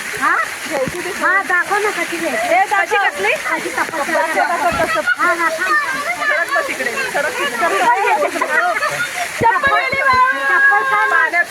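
Heavy rain-fed waterfall in a residential colony, a steady loud rush and splash of falling water with voices talking over it throughout.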